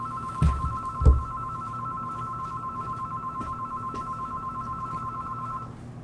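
Telephone ringing in a television news studio, a steady electronic ring running continuously for about six seconds at moderate distance, with a couple of soft thumps near the start.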